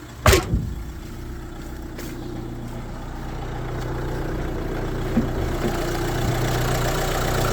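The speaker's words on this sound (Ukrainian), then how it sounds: "Чиста робота двигуна" Diesel engine of a Renault Master L3H van idling steadily with a low, even hum and a couple of sharp knocks near the start, heard close and without talk.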